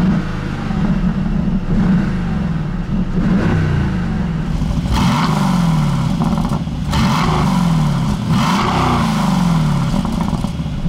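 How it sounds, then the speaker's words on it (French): The V8 engine of a 2019 Aston Martin Vantage AMR revs repeatedly with its active exhaust, rising and falling in a loud, throaty roar without crackle, with no voices. "C'est quand même un gros bruit de V8, mais ça crépite pas."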